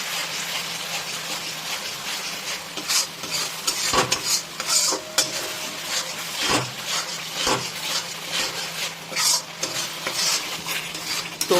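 Ginger, garlic and green chilli paste stir-fried with cauliflower for a Bengali cauliflower roast, with a steady sizzle under repeated scraping and clinking of a spatula against the pan, and no talking.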